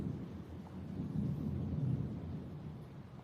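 Rain and a distant thunderstorm outside, with a low rolling rumble of thunder swelling and fading over steady faint rain hiss.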